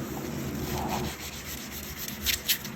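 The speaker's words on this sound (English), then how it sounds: "just wet sand it just a little bit" An S10 truck's paint is wet sanded by hand, heard as a close, steady rubbing scrape with a couple of sharper strokes near the end.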